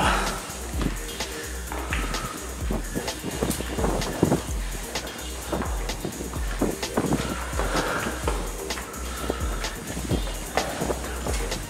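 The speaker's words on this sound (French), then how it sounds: "Il y a du vent là." Wind blows over a rocky hiking trail at the Rochers des Pénitents, gusty low buffeting against the microphone that rises and falls throughout, with footsteps and brief movement sounds but no talk.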